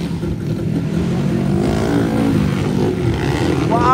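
Underbone motorcycles race in a final heat, their engines whining and revving continuously at a moderate distance, rising and falling as the bikes pass.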